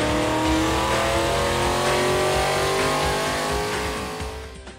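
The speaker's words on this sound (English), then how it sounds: "it was time to strap it down to the dyno jet and see how much power it made with the Stage 2 cams" A 2011 Ford Mustang 5.0 Coyote V8 with Stage 2 cams roars at full throttle on a chassis dyno, a loud sustained climbing engine note that holds high and then begins to fade near the end.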